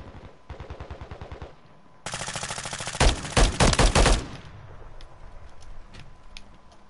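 Rapid automatic gunfire in a video game rattles in bursts, building to a loud, heavy barrage before tapering into scattered clicks and lighter shots.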